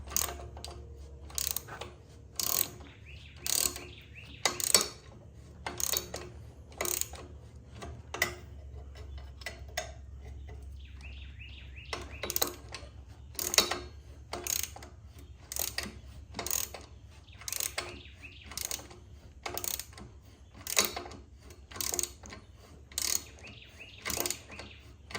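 Steady ratcheting clicks repeat at an even pace while bolts are tightened on a Baja buggy frame, close and fairly quiet, with occasional metallic knocks.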